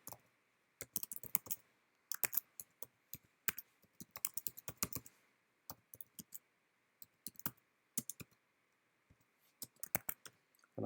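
Quiet, close keystrokes clatter on a computer keyboard during a login, coming in irregular bursts of rapid clicks separated by short pauses, with no one talking.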